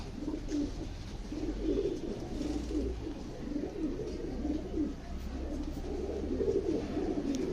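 Karna pigeons coo steadily and close by, soft low rounded calls repeating in overlapping rhythm throughout, with no talking.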